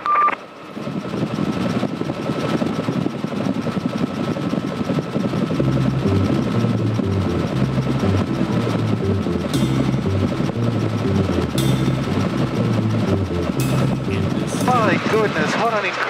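A departing Bell 47 helicopter's steady, thudding engine and rotor noise fills the whole stretch, loud and close, with a few brief chirps over it.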